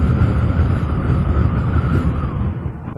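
Matter Aera electric motorcycle with gears and clutch running at top speed, around 80, a steady loud rush of motor whine and wind rumble with no break throughout.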